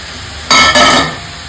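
Prawns with curry leaves and green chillies are added to softened onions in a hot pan for a Kerala-style prawn fry, giving a sudden loud sizzling hiss that lasts about half a second.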